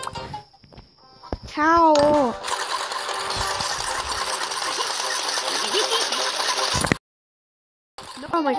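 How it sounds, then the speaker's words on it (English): A pig-built contraption's engine in the Bad Piggies video game buzzes and rattles in a dense, steady drone for several seconds, then cuts off abruptly, with a brief voice just before it starts. "Oh my gosh, it's hard to turn the engine off."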